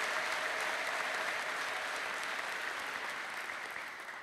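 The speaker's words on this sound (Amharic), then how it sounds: "ይሄ ጭብጨባ ለእግዚአብሔር አስባችሁ ከሆነ አይሆንም" A worship gathering keeps up continuous, loud applause, the massed hand claps blending into an unbroken roar that fades slightly near the end.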